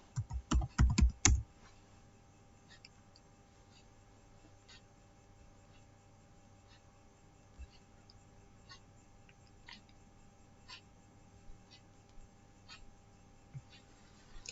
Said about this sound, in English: Click Windows R on keyboard. Ping google.com.